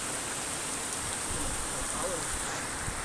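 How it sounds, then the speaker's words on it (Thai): Steady rain pours down outdoors during a flood, a dense, even hiss that holds unbroken throughout. "ฝนจะมา"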